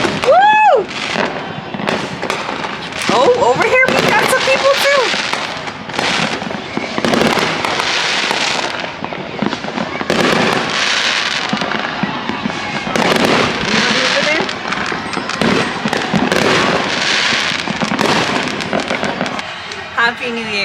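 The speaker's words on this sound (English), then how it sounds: "Over here, they're doing like major fireworks" New Year's fireworks burst and crackle continuously around a neighborhood in South Florida, dense rapid pops and booms near and far, with excited people talking and shouting over the display.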